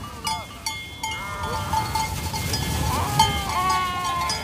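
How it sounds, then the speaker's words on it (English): A herd of goats bleating repeatedly during an Alpine animal drive, several animals calling over one another against a steady outdoor background. "Markus's brother Johann has now arrived with his herd of goats."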